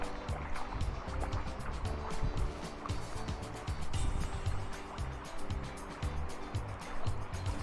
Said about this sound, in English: And it's absolutely pouring in from here.